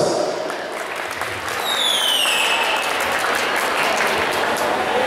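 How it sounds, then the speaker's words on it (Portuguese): A crowd applauds at a cosplay award ceremony at an anime convention, a dense, steady wash of clapping that swells slightly and holds, with a whistle and faint voices rising over it. "Parabéns, uma salva de palmas!"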